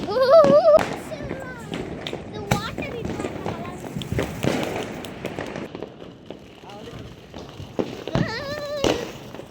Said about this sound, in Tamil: வெடிக்கிற புஷ்வானம் எப்படி இருக்கு பாருங்க